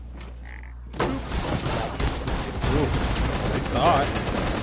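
Gunfire from a firefight in the tactical shooter Rainbow Six Siege, a dense run of shots and bursts that starts abruptly and carries on steadily to the end, with a brief spoken exclamation over it.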